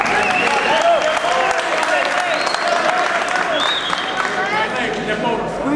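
A loud crowd applauds and cheers at a submission grappling match, steady dense clapping and shouts filling the whole stretch while a voice calls out over the noise.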